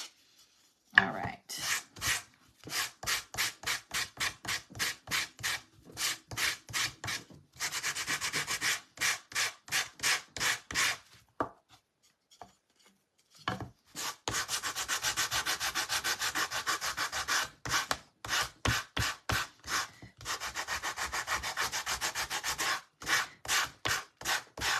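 Wood being sanded by hand for a snowman craft, rapid rhythmic back-and-forth rasping strokes in bursts separated by short pauses, close and fairly loud, with no talk.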